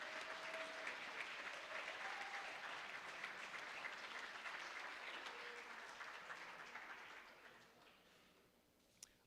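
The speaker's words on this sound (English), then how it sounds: "Please give them a round of applause." A round of applause from the audience at a high school athletics fall awards celebration, steady clapping that gradually fades out toward the end.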